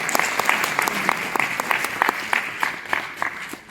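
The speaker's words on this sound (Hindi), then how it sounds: "मैं चाहता हूं एक बार जोरदार तालियों के साथ आप।" Audience applause at a Hindi kavi sammelan poetry recital marking a former prime minister's 100th birth anniversary, a steady crowd of hands clapping near and loud throughout, with scattered sharper individual claps standing out.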